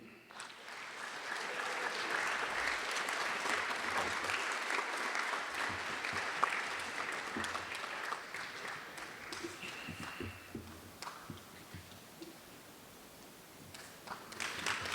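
A school assembly audience applauds the 2023 National Merit Scholars, sustained clapping from many people that swells, holds and then thins toward the end, with faint rustling.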